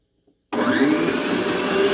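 A planetary stand mixer starts up after a moment of silence and runs with a steady, loud motor whir while beating soft bread dough for a stuffed bread. There is no talking.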